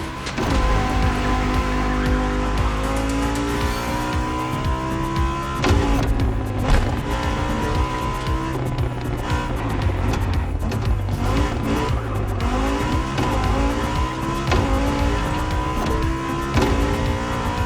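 Expensive race cars driving in The Crew Motorfest, a continuous loud engine drone with shifting pitch, gear changes and tire squeal, unbroken from start to finish.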